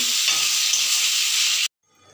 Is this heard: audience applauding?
no